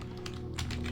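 Rapid dry clicking from a creature overhead in the horror game Spooky's Jumpscare Mansion, a quick irregular run of taps over a low droning ambience, moderately close.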